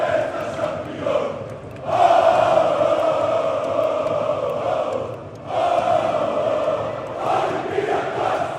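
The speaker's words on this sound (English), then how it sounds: "Djokovic is there cheering with the Red Star fans. And I think they're singing Olympiacos songs" Red Star basketball fans chant Olympiacos songs in an arena during a EuroLeague game. The crowd sings in long, loud swells broken by short lulls, a dense wall of massed voices with no single speaker standing out.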